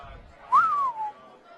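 A person whistles a single short gliding note that rises and then falls, imitating a football whistling past at a high school game between Monona Grove and Portage. It is clear and moderately loud over faint background noise.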